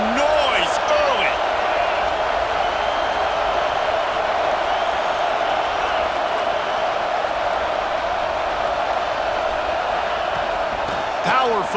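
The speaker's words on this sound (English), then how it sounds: "This crowd bringing the energy and noise early." Steady, dense roar of a packed stadium crowd at an Alabama at Oklahoma college football game, a continuous wash of massed voices and cheering holding loud and even throughout, with a few brief whistles near the start and end.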